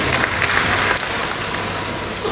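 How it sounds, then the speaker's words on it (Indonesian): A crowd at an official ceremony for a money exchange service kick-off applauds steadily, a close, continuous wash of clapping that holds at an even level throughout without any speech. "Tepuk Bapak Roni."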